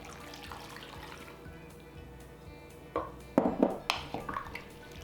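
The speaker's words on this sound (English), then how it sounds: "Then I'm going to add some veggie broth." Veggie broth is poured into a pot, quiet liquid splashes and gurgles building in short bursts near the end over a faint background hum, close by and fairly soft.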